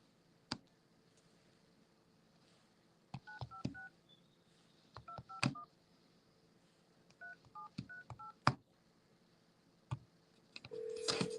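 Touch-tone keypad dialing an outgoing phone call, a quiet sequence of short beeps in irregular clusters with faint clicks, ending in a steadier tone.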